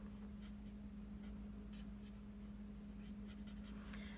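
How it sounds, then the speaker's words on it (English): A Stampin' Blends alcohol marker in Shaded Spruce colors paper with steady soft strokes that scratch along under a constant low electrical hum. "I'm going to use the Shaded Spruce Stampin' Blends marker"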